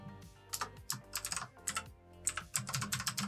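Code being typed on a computer keyboard, a fast irregular run of close, crisp keystrokes in quick bursts with short pauses, alone with no talk.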